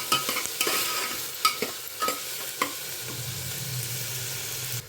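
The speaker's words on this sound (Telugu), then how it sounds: "దీన్ని బాగా కలిపేసుకోవాలి. పచ్చివాసన అంతా పోయేంత వరకు అయితే మనం ఫ్రై చేసుకోవాలి." Ginger garlic paste and vegetables being stirred and fried in a pan for masala khichdi, with a steady close sizzle broken by irregular scrapes and taps of the spoon against the pan.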